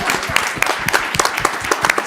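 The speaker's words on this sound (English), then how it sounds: "can we give them another round of applause for, I think it was an amazing movie" Audience at an international astronautical congress forum applauding after a film screening, a lively burst of many hands clapping close by with distinct individual claps standing out.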